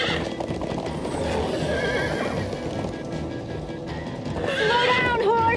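Several horses in Minecraft: Story Mode gallop with steady clip-clopping hooves under game music, and a loud, wavering whinny rises near the end; voices talk faintly in the background.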